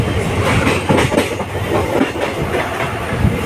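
A train running near New Farakka Junction, heard from on board as a loud, close, continuous rumble with rhythmic clickety-clack of wheels over rail joints, and no talking.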